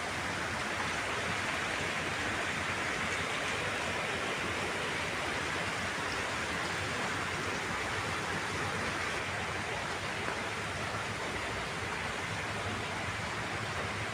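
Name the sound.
heavy rain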